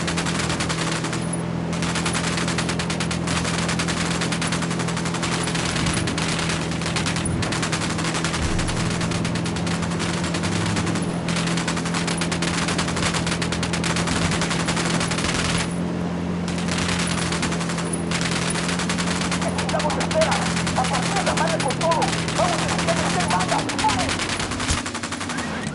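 A firefight in the video game Ghost Recon Wildlands, with dense, continuous automatic gunfire and rapid overlapping shots over a steady background drone for about twenty-five seconds, and occasional voices beneath the shooting.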